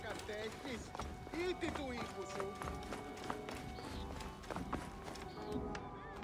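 Horse hooves clip-clop in a rhythmic gallop in the Assassin's Creed Origins video game, running under music and a voice talking throughout.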